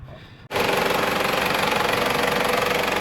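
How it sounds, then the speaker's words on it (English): After a brief quiet moment, a Toyota Land Cruiser diesel engine rumbles up and idles loudly and evenly, with a steady rhythmic knocking throughout. "we've got this in here for 10 to 15 minutes, just idling"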